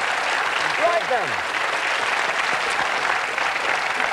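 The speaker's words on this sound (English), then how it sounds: "Give them a nice big cheer." Studio audience applauds and cheers for two contestants on a dating game show, a steady dense wash of clapping throughout with a brief voiced shout early on.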